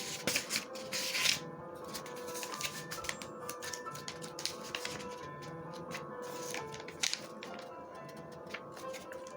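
Trading cards rummaged through by hand in a pile, giving steady close shuffling, flicking and tapping sounds throughout with no talk.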